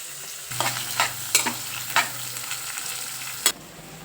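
Curry frying in a pan with salt, stirred with a spoon that scrapes and clinks in irregular strokes over a low steady sizzle, close and clear with no voices.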